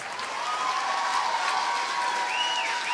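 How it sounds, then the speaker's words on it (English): Audience applause for a show's cast, a steady broadband wash of clapping with a faint whistle or cheer near the end, moderately distant and continuous throughout. "one more round of applause"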